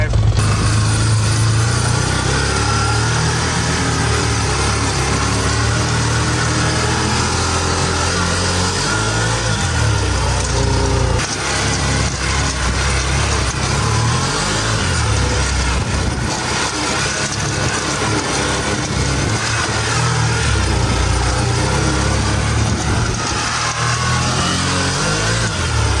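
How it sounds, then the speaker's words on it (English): Side-by-side off-road vehicle engine running steadily on a first test drive after repairs, a continuous loud drone with broadband rumble and rattle throughout, shifting slightly in pitch as it drives. "we're on our first official test drive"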